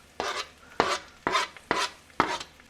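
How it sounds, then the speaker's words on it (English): Chopped onions tipped into a pan already holding kielbasa and potatoes, five quick rustling thumps in an uneven rhythm, close and fairly loud with nothing else around them. "So we got some onions here. Let's just dump them in there."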